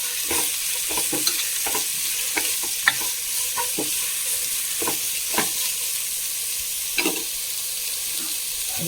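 Sliced onions fry in a pan for mushroom biryani, a constant hissing sizzle with scattered sharp clicks and scrapes from stirring, close and without any voices.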